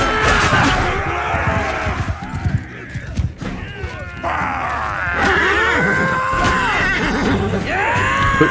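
Horses in the video game Mount & Blade 2 Bannerlord neigh and groan through loud battle noise, with several whinnies rising and falling over a dense wash of clashing and rumbling.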